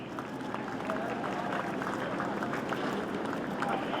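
A crowd applauds at a special operations capabilities demonstration, a steady broadband wash of clapping held at an even level throughout, with cheers and voices mixed in.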